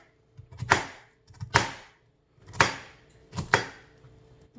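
Five sharp knife chops through an underripe pineapple on a cutting board in an uneven rhythm, each a crisp thud with a short tail, close by with quiet pauses between.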